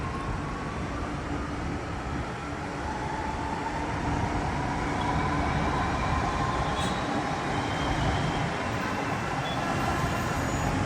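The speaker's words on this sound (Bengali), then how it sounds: "যে ট্রেনটাকে দেখালাম সেই ট্রেনটা এখন বেরিয়ে যাচ্ছে এখান থেকে।" A train pulls out of a station with a steady rumble and rolling wagon noise, fairly loud and continuous, swelling slightly as it moves, with road traffic of buses, lorries and taxis nearby.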